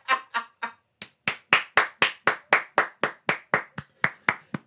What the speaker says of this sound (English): That is a round of applause for self-awareness.